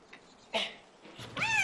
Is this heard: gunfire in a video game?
no